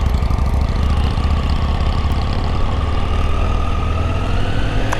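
A semi truck engine idles beside a roadside ditch, a loud, steady diesel rumble with a constant low throb that does not change across the whole stretch.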